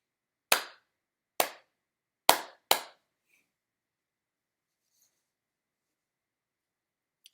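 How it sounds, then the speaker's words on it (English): Four crisp hand claps in a short rhythm for a 3rd grade rhythm lesson, two evenly spaced and then a quicker pair, close and clear, followed by silence. "So I'm just going to clap the rhythm."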